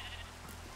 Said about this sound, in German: Jetzt ist gerade so ein Schaf.